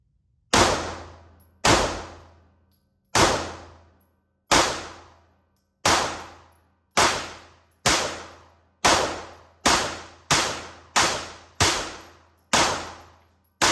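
Thirteen sharp, loud pistol shots from a Shadow Systems DR920P with a muzzle brake, each a crisp crack with a fast-decaying ring, spaced irregularly and speeding into a quicker string toward the end.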